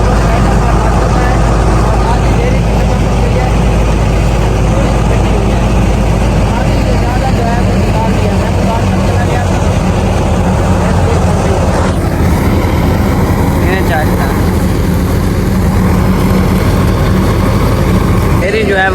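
A tractor engine runs steadily through a wheat threshing job, a loud continuous low drone with machinery clatter, while people talk over it at times.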